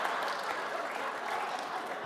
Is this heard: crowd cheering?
yes